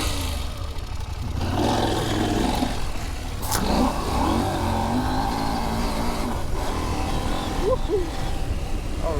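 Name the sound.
KTM 790 Adventure R motorcycle engine riding through soft sand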